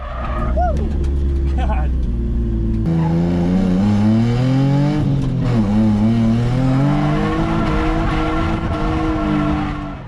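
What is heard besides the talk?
Nissan 350z drifting, tires skidding and engine revving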